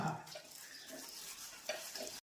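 Bhungli snacks sizzle quietly in hot oil with a soft, continuous crackle and occasional stirring, then cut to silence at the end.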